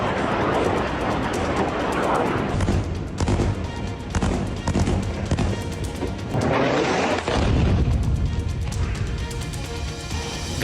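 Bomb explosions in Gaza, heavy booms and crashing blasts in close succession over a loud, dense rumble, continuous throughout.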